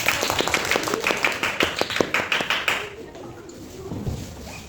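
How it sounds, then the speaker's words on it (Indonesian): A small group of students in a classroom claps for about three seconds, a quick run of distinct close hand claps that stops abruptly, followed by quiet room tone with faint talk. "Tepuk tangan"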